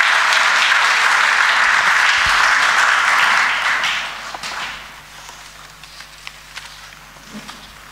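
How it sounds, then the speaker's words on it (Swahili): An audience at a government launch of electronic visa and residence permit services in Tanzania claps loudly and steadily for about four seconds, then the applause fades to scattered claps and room noise. "Naomba tumpigie makofi mengi sana sana."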